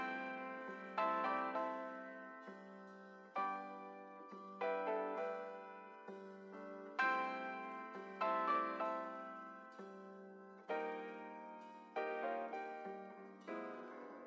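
A simple piano sample with effects for a beat: soft chords struck every second or two, each decaying smoothly, a loose repeating pattern alone without voices.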